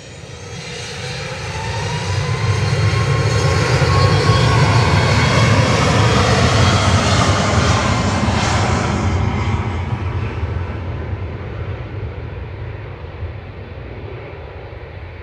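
A Ryanair airliner departing Manchester Airport for Gran Canaria, a powerful jet engine roar swelling to a loud peak as it passes, then slowly fading into the distance with a lingering low rumble.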